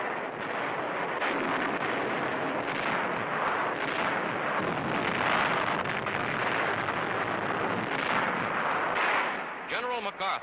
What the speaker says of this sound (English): Enemy positions and installations along the entire coast are blasted again and again.